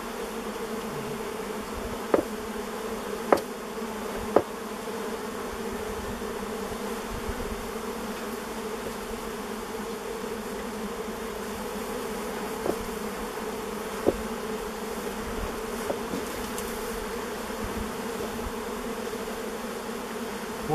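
Honey bees in a hive left unopened for more than 30 years make a dense, continuous buzzing drone with a few sharp clicks and taps over it.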